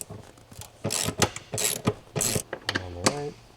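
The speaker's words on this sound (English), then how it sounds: "take a 15mm socket and remove these 2 bolts" A ratchet with a 15mm socket works loose the seat bolts on a Corvette C5, giving quick bursts of loud, close clicking with short gaps and a few creaking turns.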